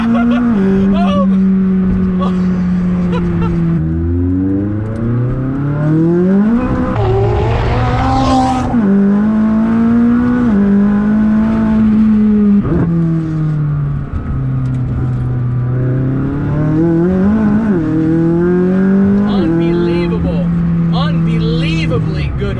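A DME-tuned McLaren 600LT runs hard through repeated gear changes, its loud engine climbing and dropping in pitch over and over, with excited voices breaking in at times.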